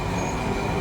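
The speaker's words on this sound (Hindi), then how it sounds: "वो अगला मेट्रो" A Tashkent metro train rumbles at the main Tashkent underground station, a dense, steady roar of wheels and carriages filling the whole brief moment.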